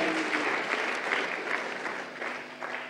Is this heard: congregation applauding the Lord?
yes